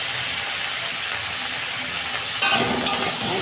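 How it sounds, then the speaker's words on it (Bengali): Potatoes and eggplant with salt and turmeric frying in a pan, a steady close hiss of oil with brief stirring clatters near the end, no voices. "ভালো করে ভেজে নেব।"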